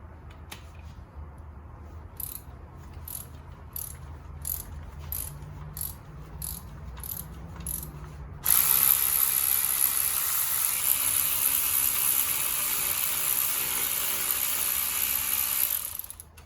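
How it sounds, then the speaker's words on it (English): A ratchet with a spark plug socket works on a 2007 Nissan Maxima 3.5 engine, first as a series of evenly spaced, close clicks, then a dense, louder rapid ratcheting buzz that continues to the end. "Now let's look at the spark plug. Spark plug socket."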